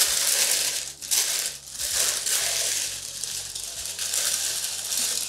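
A wrapped Lookfantastic beauty box being opened, steady crinkling and crushing of packaging material close up, loud and continuous with brief pauses between tears.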